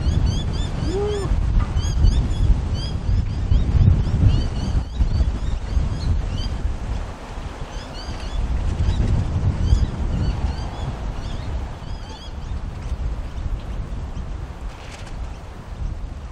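Steady wind blowing around a boat on a windy day, a broad continuous rush and buffeting that stays loud throughout, with faint water noise beneath.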